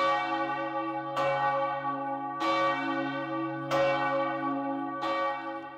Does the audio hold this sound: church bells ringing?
yes